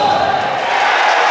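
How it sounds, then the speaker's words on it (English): Home fans at a FIBA Europe Cup basketball game between Hibernia and Bakken Bears let out a steady, full crowd roar of cheering, with a commentator's voice over it. "that's the biggest cheer you've heard from the Tala faithful this evening"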